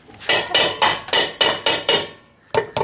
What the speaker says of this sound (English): hammering away